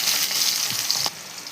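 Whole spices such as cardamom, peppercorns, cloves, cumin, bay leaf and dried chillies sizzle loudly in hot oil for a mutton curry, a dense crackling hiss that eases slightly near the end, with no talking.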